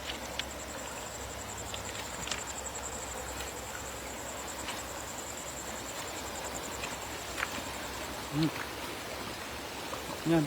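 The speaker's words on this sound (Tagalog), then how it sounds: "parang naglalakad na lang siya sa tubig" A person wades through water at night while net fishing in the Philippines, giving soft sloshing and a few louder splashes near the end over a steady wash of flowing water and insect chirps.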